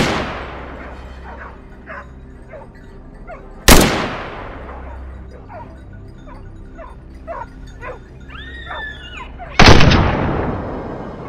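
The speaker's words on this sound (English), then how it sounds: "Gunshot rings out." Two sharp, loud gunshots in a wild boar hunt, each with a long echoing decay, about six seconds apart, with dogs barking and yipping between them.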